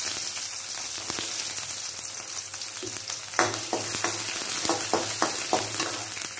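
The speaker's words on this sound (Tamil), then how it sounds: "வெட்டி வச்சிருக்கக்கூடிய சின்ன வெங்காயத்தை போட்டுடலாம்" Small chopped onions dropped into hot oil in a frying pan while cooking drumstick kulambu, giving a steady close sizzle with a louder burst as they land and crackling pops after.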